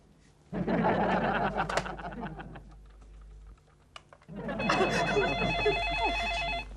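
A telephone rings indoors in a domestic sitcom scene, the bursts of ringing repeating steadily under background chatter and clatter, with a short lull between the two ringing spells.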